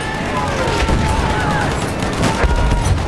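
Dense gunfire from a World War I battle on the Somme in a video game crackles continuously under shouting voices and a steady din of combat, with sharper bursts standing out near the end.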